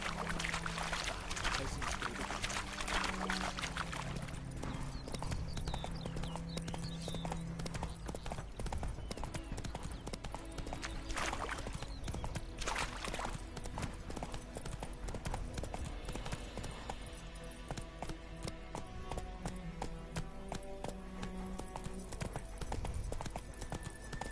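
Hoofbeats of a horse galloping in the Witcher 3 video game, a steady clip-clop rhythm running throughout beneath music and occasional voices.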